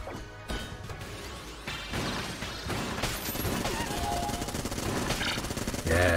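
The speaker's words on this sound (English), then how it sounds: "Yes. Vulcan cannon." Rapid, sustained gunfire from a Vulcan cannon in the game Exit the Gungeon, a loud continuous mechanical rattle mixed with crashing impacts and other game effects for several seconds, no talking.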